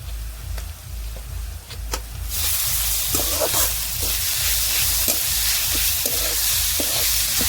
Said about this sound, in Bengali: পেঁয়াজ হালকা ভাজা হয়ে গেছে আদা রসুন কোচানো দিয়ে দিচ্ছি